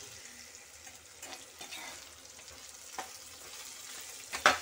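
Bitter gourd frying in a pan with a little salt, a soft steady sizzle under intermittent scraping stirs, with a sharper clatter near the end.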